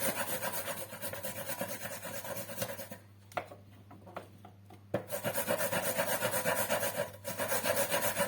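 Jerusalem artichokes are rubbed on a grater in a kitchen, making close rhythmic rasping strokes that pause briefly in the middle, then resume steadily.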